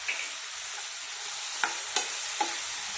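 Tomatoes with turmeric, salt and other spices fry in a pan with a constant sizzle, broken by a few scraping clicks of a spoon stirring against the pan.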